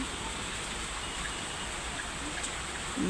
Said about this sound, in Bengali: ঝিরি ঝিরি ছোট ছোট বৃষ্টি পড়তেছে